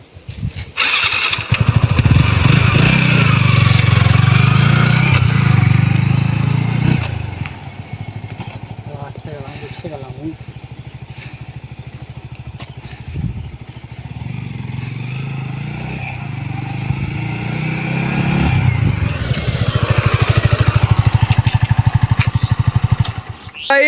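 Yamaha MT-15 motorcycle, a 2024 model, ridden nearby: its engine revs loud and steady for several seconds, eases to a lower idle-like drone, then climbs again toward the end.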